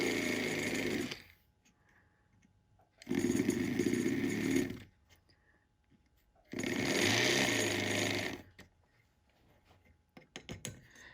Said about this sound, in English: I need to open the seats a little bit more with my ball burr